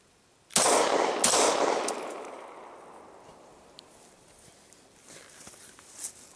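Glock 20 pistol fires two loud close shots about half a second apart, each with a long ringing decay, followed by faint clicks and handling noises during an experiment with a latex membrane obstructing the chamber.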